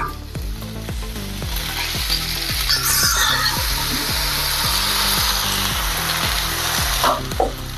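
Ground masala paste sizzles loudly in hot oil with frying potatoes for dhaba-style aloo do pyaza, with repeated rhythmic scraping and stirring of a spoon against the pan over a steady crackle.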